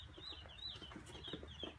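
Young Cornish Cross broiler chicks in their first week, soft peeping and clucking chirps repeating close by over a low hum, no talking.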